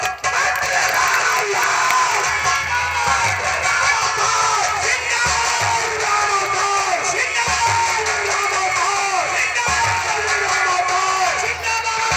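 A large crowd at an outdoor nautanki folk-theatre show cheers, whoops and shouts continuously and loudly as a minister arrives, a dense roar of voices throughout.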